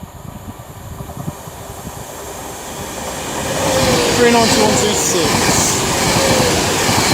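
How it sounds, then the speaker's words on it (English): Avanti West Coast Pendolino arriving at Nuneaton on its London Euston to Manchester Piccadilly run, a rising rail rumble with hiss and wheel noise growing louder, while a voice speaks briefly near the start. "Pendolino coming in."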